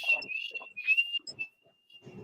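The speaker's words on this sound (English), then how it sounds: "I can whistle" A person whistles a few high, steady notes during a relaxed chat among friends at home, with short bursts of talk between the tones.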